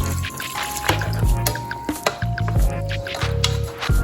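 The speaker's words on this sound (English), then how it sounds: "Now we want to add some water so it can cook a little bit further." Water pours into a pot of curry chicken, wet sloshing and squishy drips at close range with clatter from the pot, under occasional background voices.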